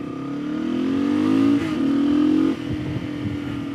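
A Kawasaki KLR650 single-cylinder motorcycle engine revs up loudly and close, holding a rising drone before dropping off abruptly, then settling into a lumpy, uneven idle.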